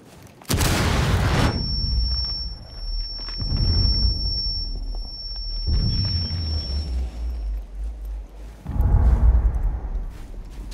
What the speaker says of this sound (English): Tossing frag grenade.